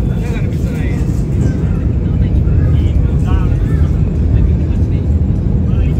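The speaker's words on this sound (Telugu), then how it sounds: "అది ఫ్లైట్ ఇన్సైడ్ నుంచి తీసిన వీడియో" Steady broadband cabin roar inside a passenger plane flying over the sea near Sri Lanka, continuous and fairly loud, with faint voices murmuring beneath it.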